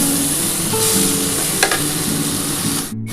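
Ginger, whole cumin and green chilli paste fry loudly in a pan for a rohu fish curry while being stirred, producing a close, continuous sizzle with a sharp utensil clink midway and a sudden brief break near the end.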